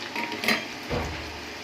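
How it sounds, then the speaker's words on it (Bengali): Cauliflower pieces drop into hot oil in a pan, a short sizzle with a clatter of utensil against metal and a soft thump, close by and brief, no voices. "ফুলকপিটা দিয়ে দিলাম তেলে"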